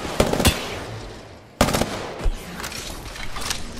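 Gunfire in Apex Legends on Xbox Series: loud automatic bursts crack out in two clusters separated by a brief lull, with rattling shots and impacts close by and no talk.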